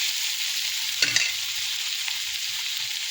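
Onions frying in a pan, a steady bright sizzle with a couple of brief scraping stirs about a second in, close and fairly loud with no voices.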